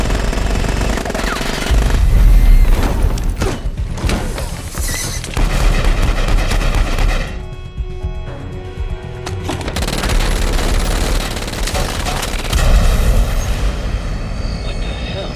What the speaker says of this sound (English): I'm seeing what looks like gunfire in the passenger cabin.